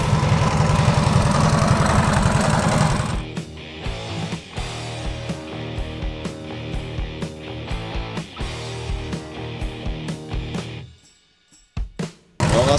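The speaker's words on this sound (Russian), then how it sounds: "Василий, как ты думаешь, что мотоциклы смогут завестись?" A Ural 650 motorcycle engine idles with a steady, loud mechanical thrum, preceded by a rougher burst, then cuts out briefly before restarting.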